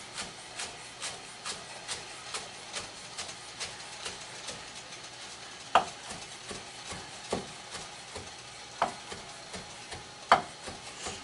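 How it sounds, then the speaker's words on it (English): A knife rough chops fresh basil leaves on a cutting board, giving quick, uneven taps in a steady rhythm with a few sharper, louder hits, and no talking. "I'm just sort of rough chopping this basil"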